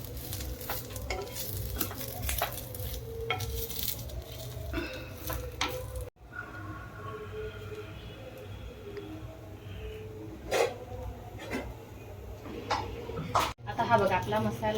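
Masala for alu vadi being dry-roasted and stirred in a pan, giving scraping, rattling strokes and light clatter, with a voice talking under it in places and a steady hum throughout.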